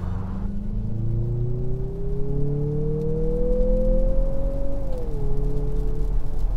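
A 2023 Mazda CX-50 AWD with a turbocharged 4-cylinder and 6-speed automatic, accelerating hard at full throttle on a freeway, a steady engine drone rising in pitch for several seconds before dropping at a shift, heard from inside the cabin.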